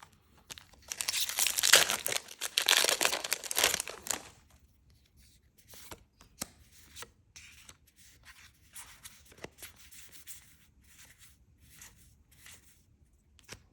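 A Magic: The Gathering Forgotten Realms booster pack wrapper crinkles loudly and close for a few seconds as it is torn open, followed by quieter scattered rustling and card handling.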